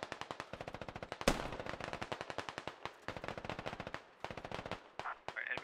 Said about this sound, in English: Shots coming from the rock